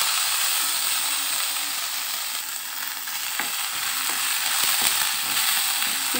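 Chicken sizzles steadily in a pan with a pinch of cumin seeds added for an instant chicken Maggi, a continuous broadband frying hiss with occasional stirring clinks and scrapes throughout.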